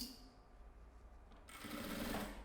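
Sewing machine stitching lining fabric with a backstitch, a faint motor hum that rises into a louder, steady whirring run in the second half, heard close with no talking.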